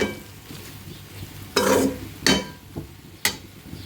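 Taro stolons with shrimp cooking in a pan on a stove, a steady faint sizzle broken by three sharp stirring scrapes spaced about a second apart.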